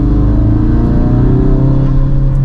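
Deep steady engine drone from a Mk3 Ford Focus RS of about 400 horsepower cruising in normal mode, loud and constant with a low humming rumble from inside the car, no talk.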